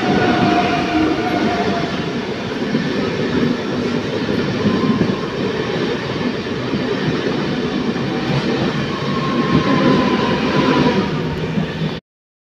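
A MEMU passenger train pulls into Raniganj station on the Durgapur to Asansol route, heard from on board as a steady rumble of wheels with faint squeals and rattles that carries on throughout, then cuts off.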